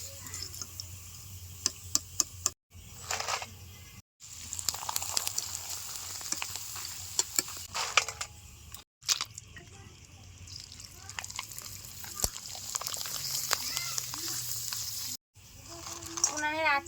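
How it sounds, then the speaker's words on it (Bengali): Potato papad frying in hot oil on a village stove gives a soft, steady sizzle with scattered crackles and ticks, fairly quiet and close, with a voice now and then. "সেকেন্ডেই পাপড় ভাজা হয়ে যাচ্ছে"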